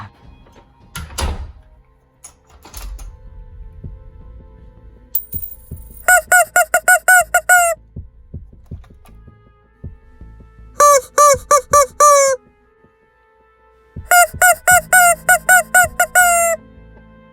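A rubber chicken squeezed in three bursts of rapid, loud, harmonic squeaky honks, each about ten quick pulses long, with thumps and handling noises in between.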